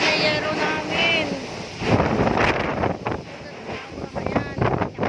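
Strong wind and rain of Typhoon Rolly, heard from a third-floor spot, a steady loud roar with gusting bursts and wind buffeting the microphone, while someone speaks over it.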